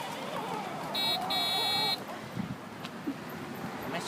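A toy ride-on car's horn beeps electronically as a button is pushed, giving two buzzy tones, one short and one longer, over wind noise and a child's movement, while an adult speaks nearby.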